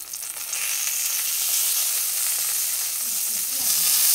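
Brinjal (eggplant) pieces fry in a pan, giving a steady, close sizzling hiss that holds evenly for several seconds with no one talking.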